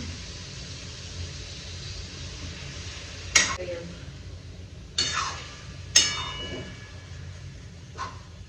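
Meat frying in a pan in a home kitchen, a steady low sizzle running throughout, broken by several sharp clinks and scrapes of a utensil.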